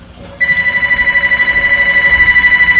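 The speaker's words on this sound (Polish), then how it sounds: "Odbierzemy telefon, czy nie?" An electronic telephone ring in a doctor's office starts abruptly after a brief quiet moment and warbles on steadily, loud and close, with no one speaking.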